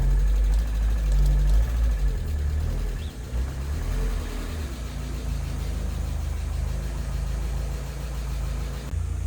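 A Mazda Miata engine idles with a steady low rumble and a slight vibrating throb, continuous and unchanging with no voices.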